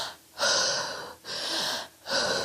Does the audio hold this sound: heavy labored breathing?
yes